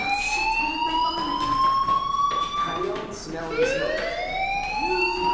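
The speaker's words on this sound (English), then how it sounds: "do you hear that fire alarm?" A wailing fire alarm tone in the video game Life Is Strange sweeps up and down repeatedly while voices talk over it.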